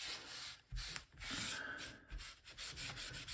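Collage paper is burnished down by hand with steady, close rubbing strokes in quick, uneven bursts, a soft dry scraping and brushing heard alone at low volume.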